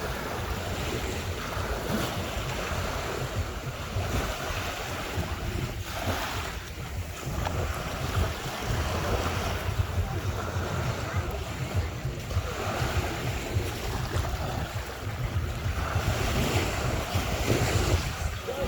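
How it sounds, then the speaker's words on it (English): Ocean waves roll in steadily as the tide comes in, with constant surf rumble and gusty wind buffeting the microphone throughout, loud and close. "So, the tide is coming in, wow."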